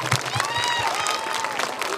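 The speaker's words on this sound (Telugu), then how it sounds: "ఒక్కసారి నాగరాజ్ కోసం క్లాప్స్ కొట్టండి" A crowd claps steadily throughout, a sustained wash of applause with some voices underneath.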